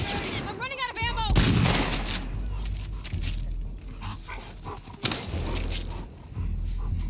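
Gunfire in The Last of Us Part II on PS4 Pro: loud, dense bursts of shots over constant combat noise, with voices shouting underneath throughout.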